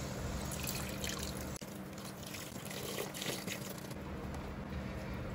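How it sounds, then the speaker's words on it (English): Beef broth pours into a pot of oxtail gravy, a steady liquid splash and trickle running throughout with a brief break partway, fairly quiet and with no talking. "now we're gonna go ahead and add in the beef broth"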